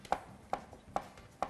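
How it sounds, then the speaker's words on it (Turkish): Boiled carrots are chopped with a knife for a Turkish çiriş tarator dish, four crisp, evenly spaced cuts against a board, close and fairly quiet, with no talking. "şöyle yavaş yavaş havuçlarımızı da doğrayalım"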